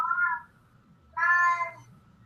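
A cat meows twice at close range, a short cry followed by a longer, louder one, with a faint low hum underneath.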